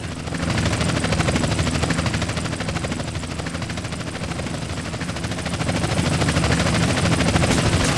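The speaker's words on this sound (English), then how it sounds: "We've got a helicopter." A helicopter's rotor chops steadily and loudly throughout in the video game GTA San Andreas, a continuous rhythmic thrum with no break.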